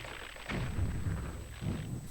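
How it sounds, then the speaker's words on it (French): Explosions go off in The Legend of Zelda: Twilight Princess HD, two rumbling low booms in quick succession over steady game background noise. "Ça explose."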